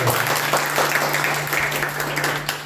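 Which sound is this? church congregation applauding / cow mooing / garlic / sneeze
church congregation applauding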